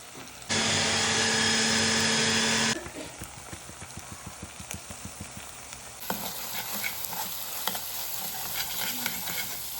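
Finely chopped onion, tomato and curry leaves fry in a little oil. A loud whirring blender-like burst runs for the first few seconds, then a rhythmic stirring sizzle follows, and the frying grows louder and brighter toward the end.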